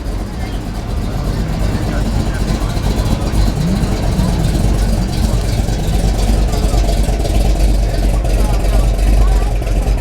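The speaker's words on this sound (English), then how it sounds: "Company's coming through next with the old truck." An old McDowell Company truck pulling a trailer rolls by in the Swanville, Minnesota mid-summer parade, its engine a low, steady rumble held at a constant loudness over ten seconds, with faint crowd voices mixed underneath.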